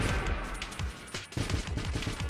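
A rocket salvo weapon fires in the space roguelike Nova Drift, giving a dense stream of rapid, punchy launches and pops that run almost continuously with a brief dip midway, loud and close with no talking.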